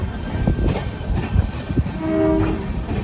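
The 12688 Chandigarh Madurai SF Express with LHB coaches runs loud and close, with a steady rumbling roar, rhythmic wheel clatter and a brief horn-like tone partway through.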